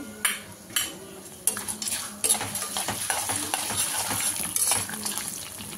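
Green chilies sizzle in hot tempering oil for tamarind rice (pulihora) while a utensil stirs and scrapes the pan, with clinks and clatter at irregular intervals over a steady close frying hiss.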